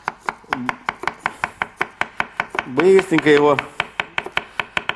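A knife chops garlic by hand on a board for a meatball dish, giving a fast, steady run of sharp, close knocks that continues briefly beneath a short stretch of speech.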